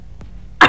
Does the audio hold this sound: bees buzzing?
no